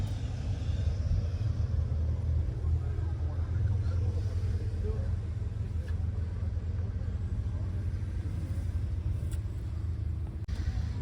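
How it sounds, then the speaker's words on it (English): A 2.5-litre V8 car engine runs at a steady idle nearby, its low, even rumble continuing unbroken without a pause. "Two and a half litre V8."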